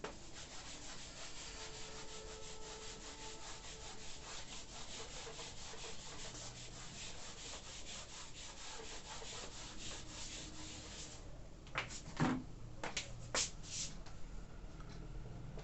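A board is rubbed clean from above during a classroom lesson, giving a steady, continuous scrubbing sound close by, with a few sharper knocks and scrapes near the end.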